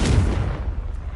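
A booming fire blast spell in a Harry Potter video game, a single short explosive thump with a rumbling tail that fades quickly, heard alone.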